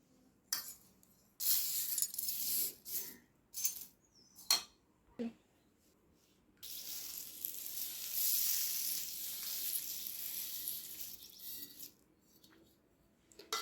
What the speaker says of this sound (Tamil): ஏலக்காய், லவங்கப்பூ, பட்டை இதையெல்லாம் வறுத்து கொஞ்சம் நேரம் நல்லா காய வைக்கலாம்.